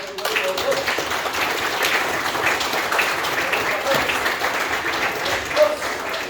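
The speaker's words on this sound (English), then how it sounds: "give the black belts a big round of applause." An audience at a martial arts graduation gives a sustained round of clapping for the new black belts. The applause is dense and steady at moderate distance, with a few voices mixed in.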